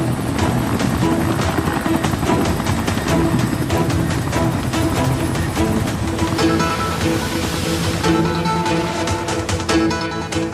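A Bangladesh Navy helicopter hovers over the sea, its rotor thudding loud and continuous from close by, with a rushing wash of wind and water beneath the blades throughout.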